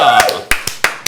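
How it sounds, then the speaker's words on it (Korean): A few sharp hand claps ring out in a studio talk show as two political guests are welcomed, five quick separate claps close to the microphone following a speaking voice. "박수로 환영합니다."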